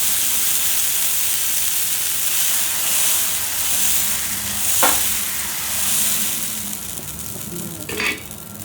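Masala dosa batter cooks on a hot griddle with a continuous loud sizzle and hiss, swelling and fading, broken by a couple of brief scraping clinks, close up with no voices.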